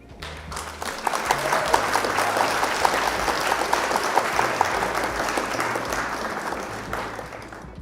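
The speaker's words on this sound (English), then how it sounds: "Round of applause." Steady applause from a small audience at a Flesh and Blood trading card game tournament event, broadband clapping sustained for several seconds at moderate loudness with a faint murmur underneath.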